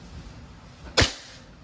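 A single sharp shot from a WE Glock 34 Gen 4 airsoft pistol, a crisp pop standing out clearly against quiet background hiss.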